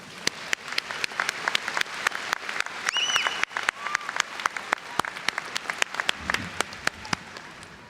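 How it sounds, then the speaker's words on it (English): A graduation ceremony audience gives a round of applause: a thin, scattered patter of individual claps that carries on steadily for several seconds, with faint voices underneath. "let's give our families one more round of applause"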